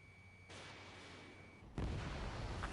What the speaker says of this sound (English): Strider 3 launching missile.